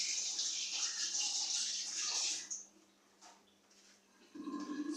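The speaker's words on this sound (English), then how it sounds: "wash my hands first." Water runs from a tap onto hands being washed, a steady hiss for about two and a half seconds, then a pause, then the flow starting again near the end.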